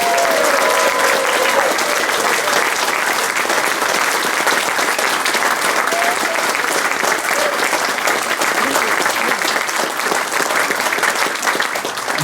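Sustained audience applause for jazz orchestra musicians fills the room, steady and dense from start to finish with no one speaking over it.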